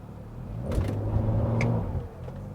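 Twin-turbo N54 car launching hard from a standstill toward 100, engine note rising under load for a couple of seconds with broadband roar, then a brief dip as a gear changes.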